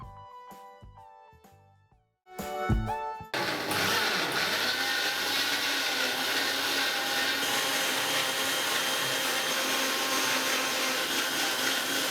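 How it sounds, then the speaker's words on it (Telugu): A mixer grinder blends a banana smoothie, its motor starting after a few brief bursts and then running as a loud, steady whir that fills the rest of the clip, with no talking. "ఇప్పుడు ఒక మిక్సీ జార్ తీసుకొని ముందుగా చెప్పిన పదార్థాలన్నింటిని ఒక్కొక్కటిగా వేసుకొని 4 లేదా 5 నిమిషాల పాటు ఫైన్గా మిక్సీ పట్టాలి"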